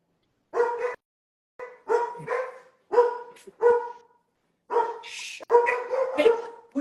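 Dogs bark in short, separate bursts, one to three barks at a time with quiet gaps between them. The barks are fairly close and clear, with a few higher yips mixed in.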